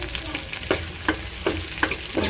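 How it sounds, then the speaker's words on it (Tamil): Egg curry base sautéing in a pan with curry leaves, a steady close sizzle and crackle broken by repeated stirring scrapes at a regular rhythm of about one every 0.4 seconds. "இது லைட் நல்லா பொன்னிறமாக வதக்கலாம்."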